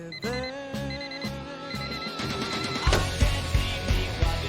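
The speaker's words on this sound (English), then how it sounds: "once Anna presses the snooze button on her alarm" A bright ringing alarm clock pattern repeats in short bursts until the snooze button is pressed, then drums and distorted guitar crash in and take over with a driving rock beat.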